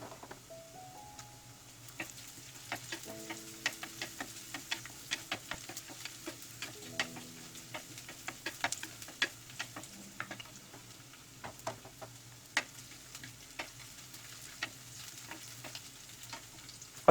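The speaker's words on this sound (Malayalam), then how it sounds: "അതിലേക്ക് വെളുത്തുള്ളി ചേർത്ത് കൊടുക്കുക. ഒന്ന് ഇളക്കിയ ശേഷം അതിലേക്ക് അരിഞ്ഞു വെച്ച പച്ചമുളക് ഒരു 3 എണ്ണം ചേർത്ത് കൊടുക്കുക" Green chillies and garlic frying in a pan for Kerala fish curry with king fish, a steady soft sizzle broken by scattered crackles and light stirring clicks, with no talk.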